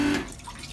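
Water runs and trickles into a newly installed electric toilet aboard a sailboat, a brief soft flow that fades after a short surge.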